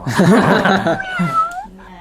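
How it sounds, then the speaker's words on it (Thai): A pet cat gives a drawn-out, wavering meow close to the listener. A person's voice overlaps it briefly. "แมวมันน่ารักก็เวลามองตามันแล้วแบบมันอยากจะฆ่าเรา"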